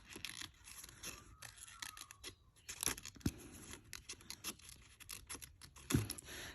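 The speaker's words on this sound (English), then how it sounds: "Now, in here, I would put a little bit of a nip and then put my scissors in." Scissors snip through glossy magazine paper in short, quiet, irregular cuts, with light scratching and rustling of the pages between the snips.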